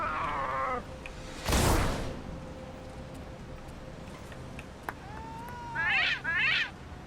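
A cat meows several times in the DC Universe Online video game, short rising and falling cries heard amid quiet game ambience and a brief whooshing burst.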